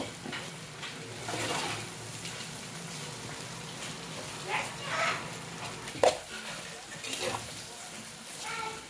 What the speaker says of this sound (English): we're frying our turkey